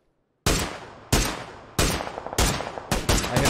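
SLR rifle fire in PUBG: five loud, sharp shots spaced roughly every two thirds of a second, each cracking out and trailing a short echo, with no talking over them.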